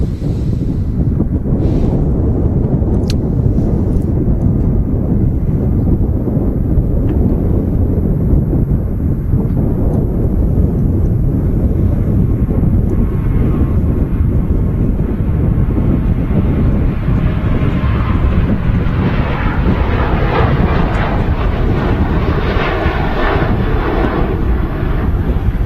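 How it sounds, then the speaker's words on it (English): A 14-year-old Ryanair aircraft on the Manchester to Dublin service at Manchester Airport produces a steady, loud engine roar that swells gradually, with wind buffeting the microphone throughout. "Manchester to Dublin service, Ryanair flight 555. It's a bit of an older aircraft, this, in the Ryanair fleet."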